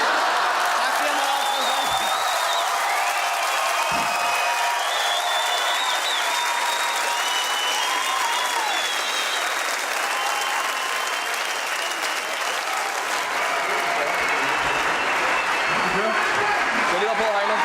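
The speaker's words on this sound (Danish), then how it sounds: "Folk klapper stadigvæk." Sustained audience applause from a crowd, a dense, steady wash of clapping that continues throughout, loud and close, with no pause.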